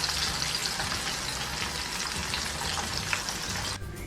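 Chicken sizzling steadily in oil over medium heat, a dense continuous crackle and hiss close by that carries on throughout and drops away abruptly near the end.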